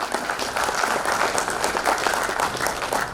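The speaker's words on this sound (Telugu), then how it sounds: "మన నూతన కార్యవర్గానికి మరోసారి గట్టిగా చప్పట్లతో అభినందిద్దాం" An audience claps together at a film chamber of commerce swearing-in ceremony, a dense, steady wash of applause sustained throughout without pause, with faint crowd murmur beneath.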